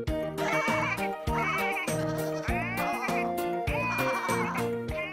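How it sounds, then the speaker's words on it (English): Several cartoon sheep on a bus bleat loudly in quick succession, their wavering cries overlapping over a steady backdrop of tonal, musical-sounding harmonics. "But poor Daisy found the sheep a bit too loud."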